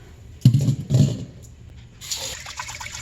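Cloudy rinse water is strained off rice in a pan, with two quick splashing pours close by, a pause, and then a longer trickling drain.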